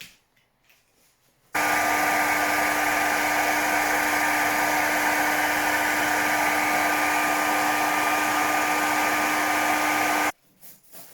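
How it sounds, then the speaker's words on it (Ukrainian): A hair dryer blows hot air onto the windlass of a CAT Gen 7 tourniquet, running loud and steady with a constant whine for about nine seconds, with quiet stretches before and after. "нагрівання турнікету, нагрівання воротка за допомогою фена"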